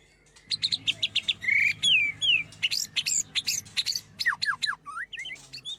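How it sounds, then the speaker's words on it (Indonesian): A long-tailed white-rumped shama (murai batu) at a bird farm in Tabanan, Bali, sings a varied run of bright whistles, trills and chirps, close and loud, with short pauses between phrases and no other voices. "Inilah kicauan merdu burung murai batu ekor panjang yang ditangkarkan oleh Ida Bagus Arse dari Banjar Abian Lalang"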